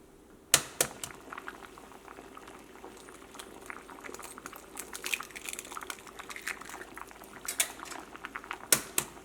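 An egg and dal curry bubbles in a pot with a steady, close boiling burble of popping bubbles, punctuated by a few sharper clinks.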